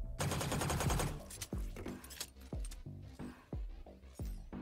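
Phantom rifle shots in the video game Valorant ring out in a rapid automatic burst, then in several spaced single cracks and short bursts, loud and punchy with metallic ringing tails.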